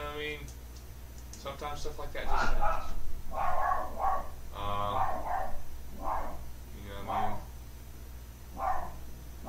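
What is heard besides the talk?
dog barking upstairs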